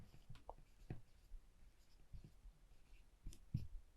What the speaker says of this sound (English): I write it here.